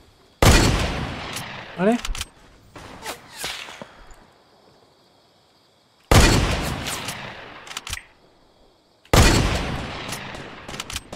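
Bursts of gunfire come from an enemy shooting at the player during a video game match. There are three loud, sharp volleys separated by quieter gaps, and a voice speaks briefly between them.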